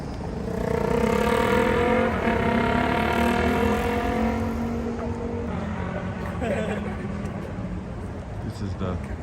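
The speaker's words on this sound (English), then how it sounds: "This is the Hanshin Expressway. This is not trains, this is cars." Cars rushing past on the Hanshin Expressway in Osaka, a loud, close engine and tire roar that swells and then eases as vehicles pass, with a person talking over it.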